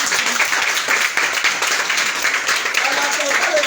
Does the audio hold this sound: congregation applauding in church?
yes